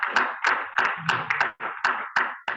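At a seminar in Abuja, an audience claps in a steady rhythmic beat of distinct sharp claps, near and fairly loud, with a brief pause partway through.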